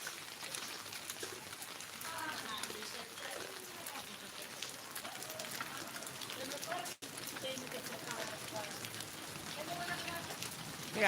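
Steady rain patters on a surface outdoors on a rainy morning walk, a dense, even hiss that runs unbroken the whole time, with faint talk mixed in.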